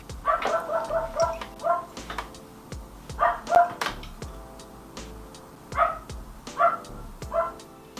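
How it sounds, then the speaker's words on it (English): Muffled barking from the neighbour's dog behind a closed door in a condo, several bursts of repeated yipping barks separated by short pauses, moderately distant and softened, with no talking. "But it's the dog next door."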